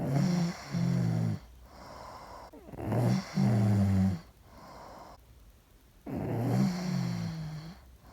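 A person snores loudly in three long, rattling inhalations with quieter breathy pauses between them, close and unaccompanied.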